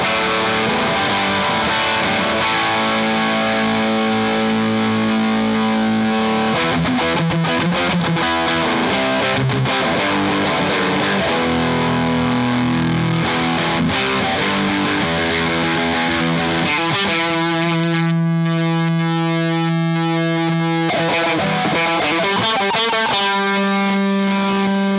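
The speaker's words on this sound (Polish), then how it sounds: "To już właściwie pełnoprawny przester" An electric guitar played through a Laney IRF-Loudpedal pedal-sized amp with heavy distortion. Sustained overdriven chords and riffs ring out loud and close for the whole stretch, with a held tone near the end.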